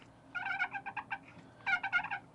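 A turkey call imitates a turkey's soft purr in a series of faint, fluttery, rolling bursts with a short pause between two groups, heard alone.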